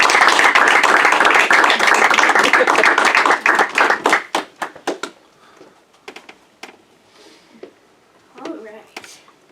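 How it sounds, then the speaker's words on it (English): Audience at a young magician show clapping in a dense round of applause that thins out into scattered claps after about four seconds, with a voice briefly heard near the end. "Everyone, give Erica one more big round of applause."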